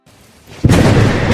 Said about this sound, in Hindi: यह तो एक भयंकर तूफान का संकेत है।